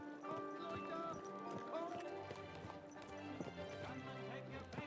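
Rhythmic hoof clip-clops of a horse in the video game Kingdom Come: Deliverance II under a busy layer of music and other game sounds, steady and fairly close.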